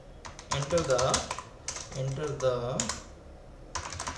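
Computer keyboard keys are tapped in quick bursts while someone speaks over them, writing a C program.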